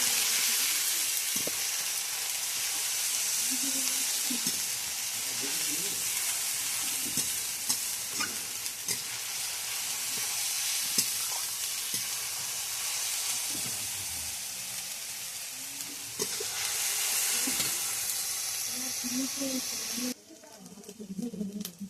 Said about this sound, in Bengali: রসুন বাটা, কাঁচা লঙ্কা বাটা। মশলাগুলো এবার ভালো করে কষাতে হবে।